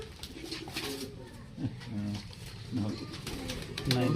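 A Lotan pigeon held in the hand and shaken gives soft, low coos several times at close range, mixed with people talking.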